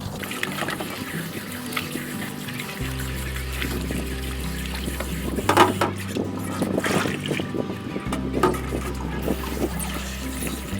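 Catfish being rinsed and scrubbed under running tap water in a kitchen sink, a steady close trickle and splash with wet handling noises throughout, no talk.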